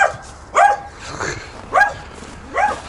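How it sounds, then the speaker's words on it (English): Dogs barking nearby, four loud sharp barks spaced about a second apart with quieter yips and whines between them. "Oh, the calming effects of dogs."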